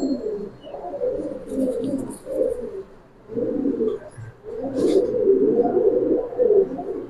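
A pair of pigeons, including a cumin-necked bird, coos in loud, close, rolling low phrases with a short pause partway through, alone without speech.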